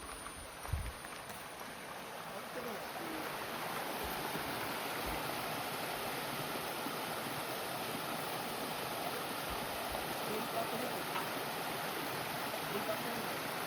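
A Konkan river running full and clear after monsoon rain, a steady broadband rush of flowing water holding constant from start to end with a few low thumps near the microphone.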